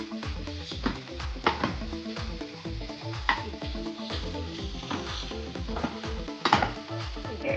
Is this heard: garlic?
yes